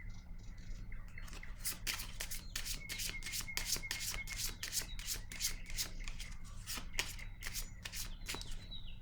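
Tarot cards are shuffled in a quick, rhythmic series of crisp riffling snaps, close and fairly quiet over a low steady room hum.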